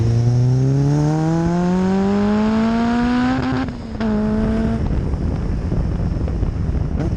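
A Caterham 420R engine revs hard toward its 9,000 RPM red line, its pitch climbing steadily and loudly over about four seconds, then dipping briefly before roaring on amid wind buffeting, with no voices.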